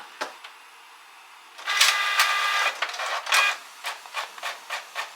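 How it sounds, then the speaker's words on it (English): A printer runs with a steady mechanical whir, then gives a series of rhythmic clicking, rasping passes that come through clearly at close range with no talking. "I love the sound the printer makes."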